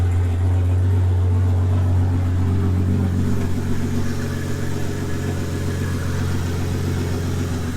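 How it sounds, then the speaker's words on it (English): A Ford Falcon AU turbo engine idles steadily through a 3-inch muffler, a deep, even rumble that stays close and constant without revving. "As you can hear, it's just coming straight out of the exhaust."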